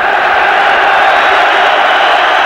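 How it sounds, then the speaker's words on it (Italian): Lazio's Curva Nord supporters roar at the Stadio Olimpico during a 1994 Serie A match against Parma, a dense, steady wash of crowd noise held at one level throughout, with no breaks. "e sentite il tifo"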